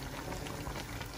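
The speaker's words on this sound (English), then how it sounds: "Mutton is nicely getting cooked. Let it cook till the water reduces from the meat." Mutton pieces cook in a pot of simmering water seasoned with garam masala for Goan sukka mutton, giving a dense, continuous bubbling and hissing boil, close and steady throughout with no talking.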